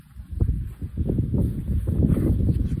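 Wind blows outdoors near a yellowjacket nest, rustling and buffeting close to the microphone in uneven, steady gusts, with no one speaking.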